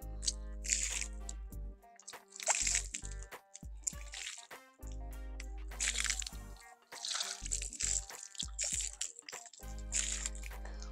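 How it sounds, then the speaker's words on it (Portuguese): Water is thrown in bursts onto a wall of concrete blocks, making repeated splashing and dripping sounds with short pauses between the throws, close and fairly loud. "Bora jogar água na parede."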